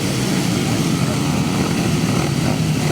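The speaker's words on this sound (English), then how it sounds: "The revs rise." Grasstrack racing motorcycles rev their engines at a national meeting, a loud, steady, dense roar that holds without a break throughout.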